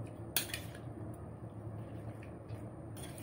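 Steamed chicken ingredients with chicken powder, black fungus and banana blossom are stirred in a bowl, giving soft clinks and a sharp knock of utensil against the dish among quiet squishy mixing sounds; no talking.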